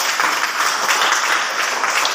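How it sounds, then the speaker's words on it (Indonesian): Classroom applause for a student, a steady dense wash of many hands clapping at once, fairly loud and continuous with no talk over it. "Bagus, tepuk tangan buat Serakia."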